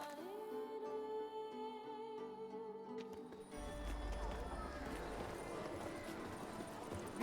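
Roach, the horse in The Witcher 3: Wild Hunt, trotting with rhythmic hoof clops over a game music and ambience bed, steady and moderately close.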